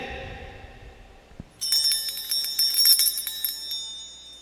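After a brief murmur, a bright bell rings out, shaking rapidly in a shimmering, jingling burst that carries on for a few seconds.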